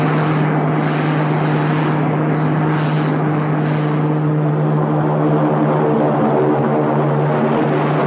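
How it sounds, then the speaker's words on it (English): A radio-drama orbit jet spaceship comes in to land, its steady droning engine hum with a low tonal whine holding constant and close throughout, alone with no voices. "The orbit jet is in the process of landing."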